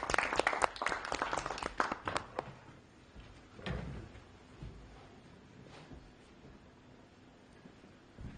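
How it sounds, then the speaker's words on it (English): A small meeting-room audience at a speaking club session claps for the next speaker, a short burst of scattered hand claps up front that quickly thins to a few isolated knocks and room noise. "Please can we have a round of applause for Gautam."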